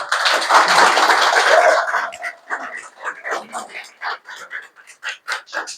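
An audience applauds the reigning Miss TCL 2026 as she is felicitated at a welcoming event in Longding. A dense burst of clapping lasts about two seconds, then thins out beneath a voice speaking.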